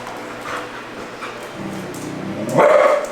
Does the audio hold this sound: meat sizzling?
no